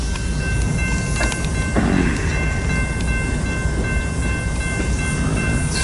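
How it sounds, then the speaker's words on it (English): A southbound grain train rolls through a rail yard, a loud, continuous rumble with rhythmic wheel clatter and metallic squeals lasting the whole stretch, with no voices. "There is a southbound grain train going through."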